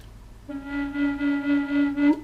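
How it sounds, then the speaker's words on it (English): A single sustained note on the melody side of a Native American-style drone flute with all holes closed, breathy and steady, holding one pitch for about a second and a half with gentle swells, ending with a slight lift. "the melody side with all of the holes closed sounds like this"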